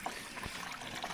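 Water trickles slowly through the Jánošíkove diery gorge in Slovakia during dry weather, a faint, steady babble with small splashes, heard alone.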